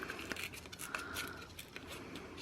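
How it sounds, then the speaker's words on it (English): Paper edges torn by hand for a papercraft card: short, close ripping and crinkling strokes in quick succession, soft but distinct against a quiet room, with no speech. "I'm just going to do a little bit tearing on the side, just so that all the edges can be torn"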